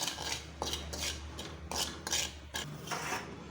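A spoon scrapes and stirs turmeric and red chili powder in a pan for roasted makhana, several short rhythmic scraping strokes close up with no talk.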